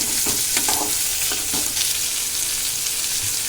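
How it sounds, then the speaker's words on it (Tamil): Onions sizzle and fry in a hot pan, a steady crackling hiss with occasional stirring scrapes, close and constant. "வெங்காயம் வதங்கிட்டு இருக்கு"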